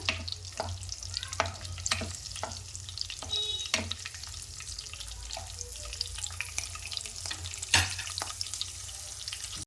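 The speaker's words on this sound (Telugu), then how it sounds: "అవి కూడా కొంచెం ఫ్రై కావాలండి, మిర్చి కూడా." Chopped green chillies fry in a pan, a soft close sizzle broken by repeated scraping clicks of a spoon stirring, with no one talking.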